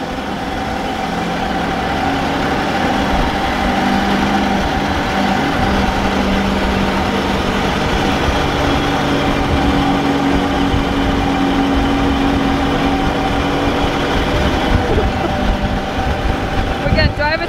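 A restored Willys jeep engine runs steadily on its first drive, a continuous low rumble with a droning tone that holds close and fairly loud for the whole stretch.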